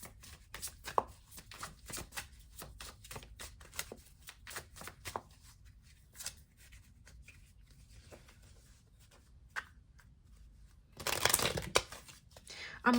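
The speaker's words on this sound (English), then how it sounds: "let me just shuffle the deck real quick, and then we'll start pulling." A tarot card deck is shuffled in bursts of quick riffling and snapping cards, close and crisp, with quieter gaps between and a final dense riffle near the end.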